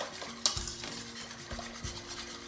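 Butterscotch pie filling being stirred in a pot over medium heat, giving soft scraping strokes at a slow, regular rhythm with one sharper clink of utensil against the pot near the start, faint and close.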